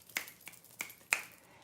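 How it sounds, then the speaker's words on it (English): Four crisp finger snaps, close and fairly loud, spaced unevenly across a short moment with quiet gaps between them and no voices. "You can snap your fingers."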